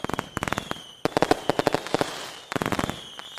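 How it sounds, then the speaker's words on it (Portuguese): Fireworks bursting in rapid clustered volleys of sharp pops and crackles, loud and close, with brief pauses between salvos and no talk. "Mas, Fernanda, e como funciona os fogos de artifício?"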